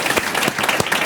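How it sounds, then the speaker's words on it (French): A French TV studio audience applauds a departing guest at the close of a Bordeaux city-affairs talk show, with dense steady clapping that fills the whole moment at close range. "Applaudissements"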